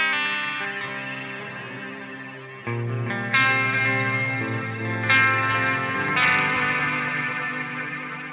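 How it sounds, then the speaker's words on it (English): Sustained electric guitar notes and chords through a JCM 800 ring out with heavy delay, each new strike trailing repeating echoes into a long wash, no voices. "then with a little bit exaggerated delay and stuff"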